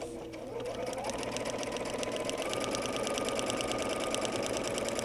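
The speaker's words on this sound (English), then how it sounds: "So now I'm going to stitch a couple," A sewing machine stitches steadily along a paper piecing line for a quilt block, a continuous close mechanical whir with rapid even needle ticks throughout and no talking.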